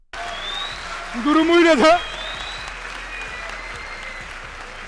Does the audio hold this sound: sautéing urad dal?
no